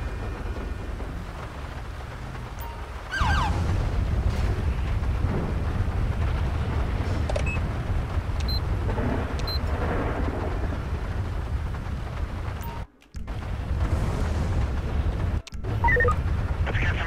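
Steady rain hisses through a thunderstorm in the video game GTA 5, with low thunder rumbling underneath and brief dropouts where the sound cuts out.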